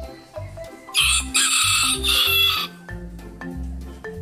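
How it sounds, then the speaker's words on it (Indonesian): A rooster crows in a long, loud call among farm animals loaded onto a truck, with music and other animal sounds around it. "Ini ayam jantan."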